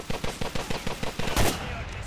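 Quick repeated gunshots in the GTA The Ballad of Gay Tony video game, a steady string of sharp cracks ending in a single louder boom, with no voices over them.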